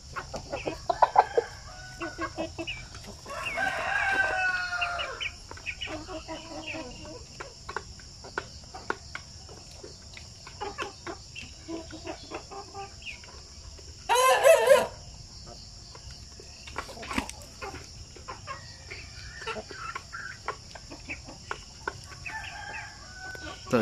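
Shamo and aseel breeder chickens crow and cluck at intervals over a constant bed of chirping crickets, with one loud, sharp outburst near the middle and fainter fowl sounds scattered throughout.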